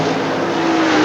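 Loud, dense roar of NASCAR stock cars racing side by side late in the 1984 World 600 at Charlotte, a sustained engine blare with no break.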